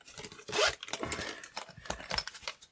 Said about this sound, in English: unzip it,